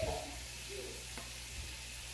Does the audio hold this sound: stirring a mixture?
yes